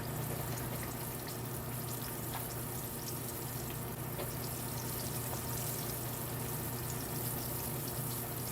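Bacon sizzles and crackles steadily in a hot pan, a dense, even frying hiss with scattered pops that runs throughout without talk.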